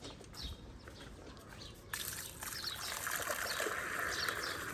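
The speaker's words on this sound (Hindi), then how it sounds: "और उस बर्तन में भी पानी डाल लेते हैं।" Water pours into a pot outdoors, starting faintly and then turning into a steady, soft splashing trickle, with birds chirping quietly in the background.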